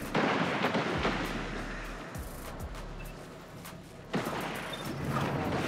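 Explosive shots from the Dimensional Hypotrochoid weapon in a video game fired close to the player, heavy booming blasts with deep rumbling tails, one punching in sharply near the end.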